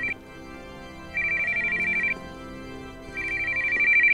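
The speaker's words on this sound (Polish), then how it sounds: "Telefon?" An in-game telephone in Postal 2 rings in three electronic bursts separated by pauses, fairly quiet over a low background hum.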